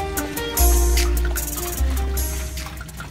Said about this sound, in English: So we're filling it full of water.